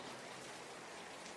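Steady rain falls as a soft, even hiss of drops on surfaces, faint and unbroken with no voices or other sounds.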